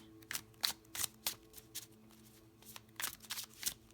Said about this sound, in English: people just like watching other people shuffle cards